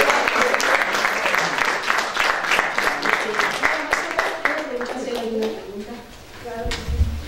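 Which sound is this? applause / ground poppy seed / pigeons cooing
applause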